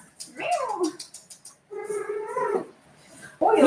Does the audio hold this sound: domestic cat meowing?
yes